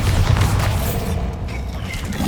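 Bombarda explosion spell cast during combat in Hogwarts Legacy, a dense, loud rumbling boom that sustains over about two seconds with crackling debris and battle noise, no talk.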